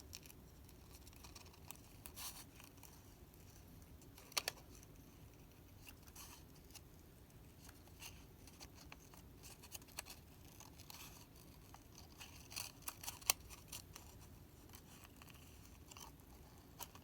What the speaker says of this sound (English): So just cutting it just a wee bit smaller.